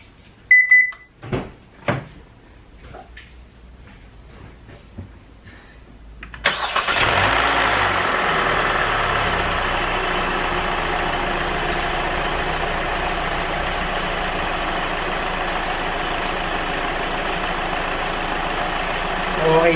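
A car engine fresh from an engine bay cleaning cranks and catches after a few quiet clicks and knocks, then settles into a steady, close idle drone.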